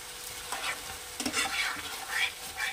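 Chopped and whole green chillies frying in a pan for a Bengali poppy-seed Tangra fish dish, a continuous close sizzle with crackling bursts and light stirring scrapes, no talk.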